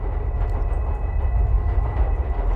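Train rolling along tracks in a TV show, a steady loud low rumble with faint rattling that holds throughout and has no talk over it.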